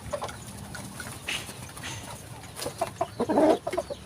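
Rooster on a backyard poultry farm clucking in short bursts, with a louder cluster of clucks near the end, close by over quiet farmyard background.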